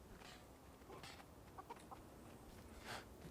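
Chickens clucking in the video game Guild Wars 2, faint and distant, with a few short, scattered clucks over quiet ambient background and no talking.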